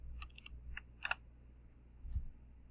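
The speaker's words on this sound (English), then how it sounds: "open up my browser, type in www.eclipse.org" A web address being typed on a computer keyboard, a few quiet separate key clicks in short bursts, faint and close in a quiet room.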